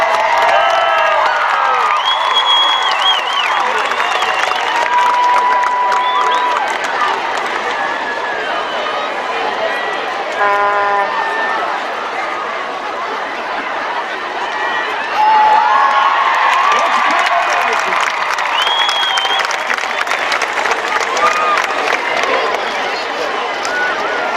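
A high school football game crowd between Whitehouse and Chapel Hill cheers loudly and continuously for over twenty seconds, with shouting, high-pitched yells and scattered applause, and an announcer's voice and chatter mixed in.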